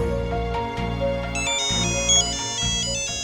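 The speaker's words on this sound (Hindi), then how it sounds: "मिस्टर दसानी, आपका फोन क्यों बज रहा है?" A mobile phone ringtone plays through a quiet office meeting, a repeating electronic melody with a bright high chiming pattern over a steady lower tone, loud and close, without speech.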